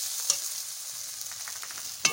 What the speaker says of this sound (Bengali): মশলা ভাজা ভাজা হয়ে গেছে, কত সুন্দর দেখো মশলা কালার এসে গেছে।